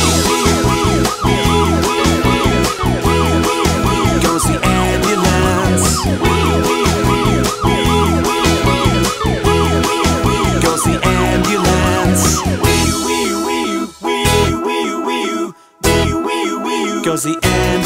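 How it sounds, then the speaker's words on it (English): A loud wailing ambulance siren cycles continuously in a steady rising-and-falling pattern, close by, briefly dropping out near the end. "You can hear the siren sound, it's close to you, and here it is."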